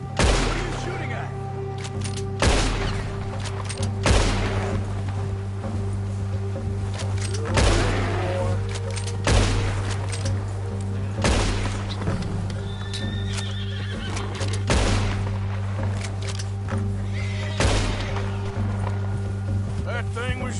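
Gunfire in the video game Red Dead Redemption 2: sharp shots repeat at fairly even intervals over galloping hooves, horse whinnies and a steady musical drone.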